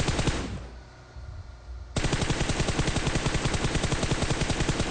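Automatic gunfire in a video game rattles in rapid bursts, a brief burst, a short lull, then continuous loud rapid-fire shots running to the end with no talk.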